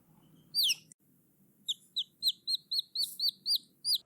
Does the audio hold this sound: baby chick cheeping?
yes